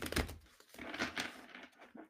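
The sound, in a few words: shuffling a tarot card deck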